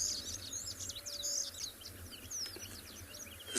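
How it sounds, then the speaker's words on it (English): A shaft-tailed whydah calls close by on a sunset safari, a rapid series of high, thin chirps and twittering notes repeated throughout over a faint low background hum. "this bird call that you can hear very close to us now"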